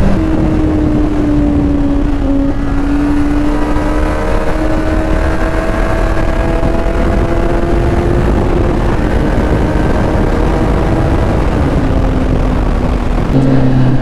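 A super sports motorcycle engine drones steadily at cruising speed on the road, loud and close with wind rush, its pitch rising slowly then dipping near the end, no voices.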